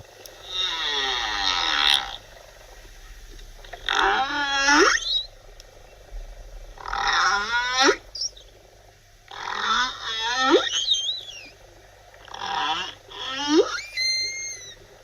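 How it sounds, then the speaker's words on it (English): Humpback-style whale song plays in a series of long sweeping moans, whoops and upward glides, arriving in separate phrases with short pauses between them over a low rumbling background. "Robin, tell me about whale sing, because we just heard it and it's fascinating."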